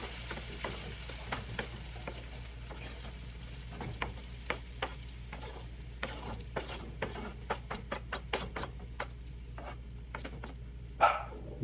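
Chopped omelette veggies cook down in butter in a pan, a low steady sizzle under intermittent spatula scrapes and taps, close and fairly quiet with no voices.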